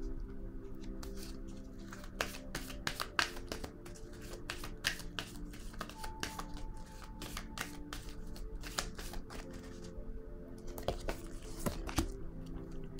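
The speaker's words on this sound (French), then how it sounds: "Je vais déposer une carte ici." Tarot cards being handled and laid down, a quiet, close series of crisp card snaps and shuffling slides in irregular bursts, with little else around.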